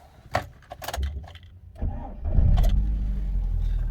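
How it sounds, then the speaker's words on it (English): Keys jangle, then a Rover car engine with 98,000 miles cranks and catches, settling into a steady, smooth idle close by. "And the engine sounds nice and smooth."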